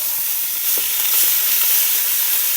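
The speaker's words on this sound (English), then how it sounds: "I'm going to take a pound of burger and I'm going to brown this up in that bacon fat" A pound of ground beef browns in bacon fat in a pot that also held peppers, giving a steady bright sizzle with a few soft stirring scrapes, close and alone.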